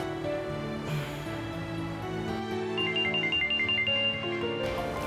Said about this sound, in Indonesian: Bu, Entong saya angkat telepon dulu ya.